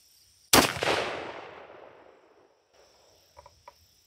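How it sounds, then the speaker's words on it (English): One sharp, loud rifle shot cracks once on a range while a rifle is zeroed for deer season, then its echo fades over about two seconds, followed by a few faint clicks. "But let's throw a round or 2 down range and see if this rifle is ready to go or not."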